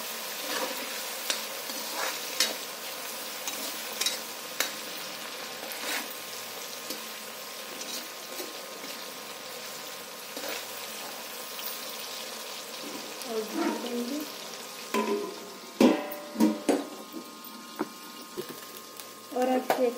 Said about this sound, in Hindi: टमाटर के साथ साथ में इसमें नमक भी डाल दूँगी ताकि टमाटर भून जाए